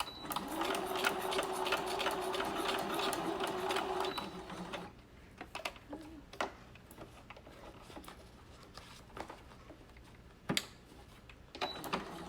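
Sewing machine stitching an elastic strap onto the top side of a homemade filtered fabric mask, running steadily and loud for about four seconds, then quieter scattered clicks and handling taps as the fabric is repositioned.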